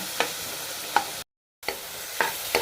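Cut tomatoes sauté in ghee with a steady, close sizzle, broken by periodic spoon scrapes and stirring taps and a brief cut to silence midway.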